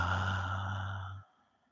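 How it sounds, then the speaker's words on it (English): A full, releasing exhale during a guided breathing practice, one long soft breath fading out after about a second, close and alone. "A second deep inhale, and a full releasing exhale."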